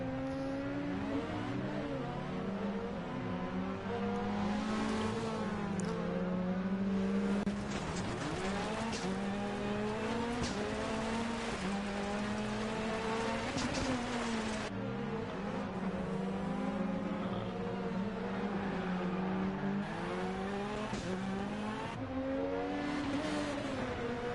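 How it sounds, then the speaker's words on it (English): Rally cars racing on a stage in Norway in Dirt Rally 2.0, a small Renault Clio chasing a longer Renault Megane: engines howling and revving hard through gear changes, rising and falling continuously, loud and close throughout. "You can see Jacques hunting down that bigger Renault in front of him."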